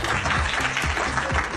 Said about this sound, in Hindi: ओके गाइस, जेदा के लिए तालियां हो जाएं।